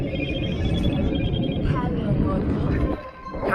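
A phone ringtone chirps in a repeating electronic pattern under a steady background hum, continuing for a few seconds before dropping away near the end.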